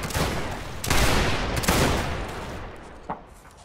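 Reenactors in a line battle fire muskets in a rippling volley, a string of loud overlapping gunshots rolling down the line over about three seconds, then a single sharper shot near the end.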